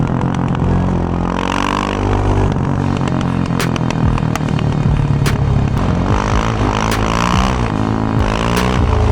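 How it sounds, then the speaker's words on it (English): Quad ATV engines, a Yamaha Raptor 700R, Suzuki LTZ400 and Honda TRX700XX, riding on wet, slippery ground, with loud overlapping throttle blips and rising, falling revs, close and continuous. "It's unbelievable how the quad goes into a skid with just a slight throttle."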